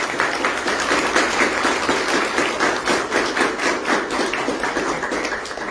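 A crowd applauds a performer at a São Vicente June festival event, sharp, rhythmic clapping in a steady beat that carries on throughout, close and lively.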